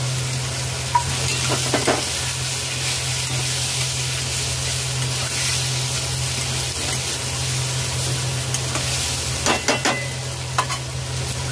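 Fried rice with turmeric and cumin-coriander powder fries in a pan with a continuous steady sizzle, punctuated by a few brief scraping stirs near the start and end, with a low background hum and no talk.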